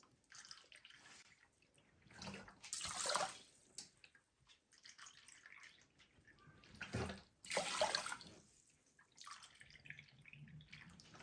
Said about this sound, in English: But first I'm gonna go ahead and get this rice rinsed.